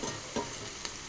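Spices for a curd rice tempering, with crushed black pepper and curry leaves, crackle in hot oil in a pan, making a steady soft sizzle with small pops, close and fairly quiet, no voices.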